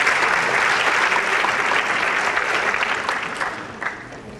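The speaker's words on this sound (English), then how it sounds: "So give yourselves all a big round of applause too" An evening audience gives a big round of applause, a dense burst of clapping that stays loud and full before gradually thinning out toward the end.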